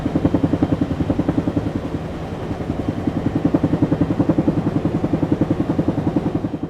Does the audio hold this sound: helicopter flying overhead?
yes